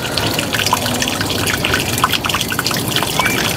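Water leaking from a pipe fitting that has no non-return valve fitted, a steady hissing trickle running continuously and fairly loud throughout.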